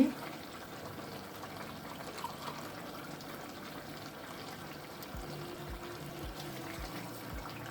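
Water is poured from a drinking glass into a pot of fresh green beans being cooked in olive oil. The pour makes a steady, moderately loud splashing stream over low background noise, with no voices.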